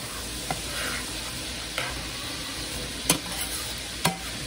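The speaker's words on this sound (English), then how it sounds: "Stir this up." Garlic shrimp sizzle in a pan with a steady frying hiss, and the stirring utensil scrapes and taps the pan four times at uneven intervals.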